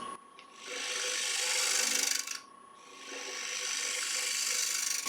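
A woodturning lathe flattens the underside of a blank under 4 inches across, the scraping tool producing a steady, loud rasping whir in two long passes with a brief break between them.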